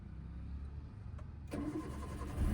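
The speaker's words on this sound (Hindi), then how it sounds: "अब क्लच दबा के इंजन स्टार्ट करो।" A manual car's engine cranks and catches with the clutch pressed, settling into a steady low idle, close by and without talk.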